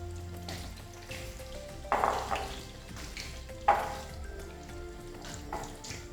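Coated lamb chops fry in a pan with a steady low sizzle, broken by two louder bursts of crackling as pieces are pressed or moved, with some faint clatter of utensils.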